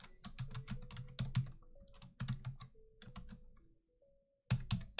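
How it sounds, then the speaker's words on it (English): Keys clatter on a computer keyboard in quick irregular bursts of close clicks, with a short pause before a final flurry. "So I'll just type that in here."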